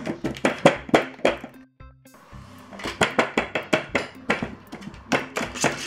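A potato masher presses and compacts a crushed-biscuit cheesecake base in a pan, making a quick series of close, rhythmic dull thuds and taps that pause briefly midway and then continue steadily.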